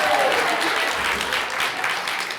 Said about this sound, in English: One more round of applause for Karen.